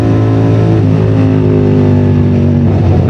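A 450SR big bike fitted with a quick throttle hums in a loud, steady engine drone with strong harmonic tone, its pitch wavering slightly as the throttle is worked.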